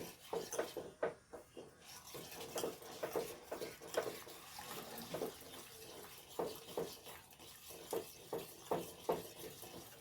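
A spoon stirs a coffee pudding mixture in a bowl, giving soft rhythmic scraping and wet swishes that repeat steadily at close range with no talking.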